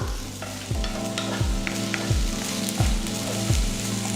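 Onions and spices lightly sautéing in a pan for Madurai thanni chutney, an even sizzle punctuated by a regular rhythm of spoon scrapes and taps about every 0.7 seconds, close and alone.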